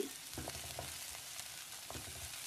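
Oil sizzles and crackles steadily as mustard seeds and onion fry in a pan for tempering greens, with a few soft scraping stirs; close and moderately loud, no voices.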